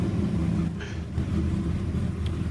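A boat's starboard engine idles with a low, steady rumble throughout, close and continuous, with a faint voice briefly over it.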